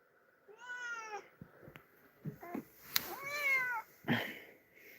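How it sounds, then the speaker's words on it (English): A pet cat meows several times close by indoors, drawn-out cries with short pauses between them, alongside a few soft knocks and rustles. "Sometimes we're joined by a cat in some live streams."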